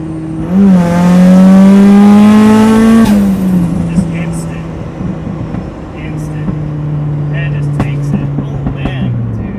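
A turbocharged Mazda Miata engine revs hard through third gear with a rising whine, then the throttle lifts and it settles into a lower drone with faint road noise.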